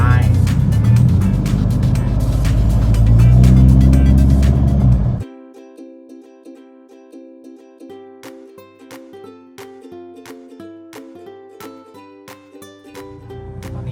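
A car idling and creeping through a traffic jam on the way to a mall: a loud, rumbling engine and road roar for about five seconds, followed by music with no vehicle noise.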